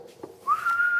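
A person whistles a single rising, then sustained clear note, close and moderately loud, with faint room noise beforehand.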